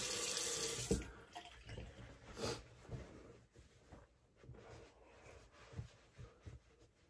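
A kitchen or bathroom tap runs into a sink as A&E Kaizen shave soap is rinsed off, a soft, steady hiss of flowing water with faint splashes and shifting gurgles, quiet and close.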